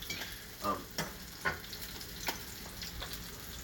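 Fish frying fin side down in a pan, giving a quiet steady sizzle broken by a few sharper crackles and pops, heard close with no talk.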